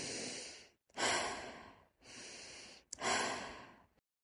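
Deep yoga breaths, slow audible inhales and exhales in alternating broad airy swells, about four breaths, close and alone with no talking.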